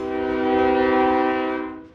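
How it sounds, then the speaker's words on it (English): Freight train horn from a CSX locomotive leading BNSF and Union Pacific units on a manifest near the Kansas River in Kansas City, one loud sustained chord blast lasting about two seconds, swelling and then fading. "A great power lineup here, with CSX 5360 leading BNSF 3798 and Union Pacific's 7236."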